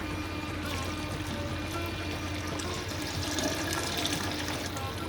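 About 3 cups of water pour steadily into a pot for chicken pulao, a continuous splashing rush close by, with faint talking underneath.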